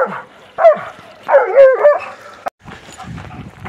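A dog on a country path gives a few sharp barks and yips close by, in short uneven bursts with brief quiet gaps between them.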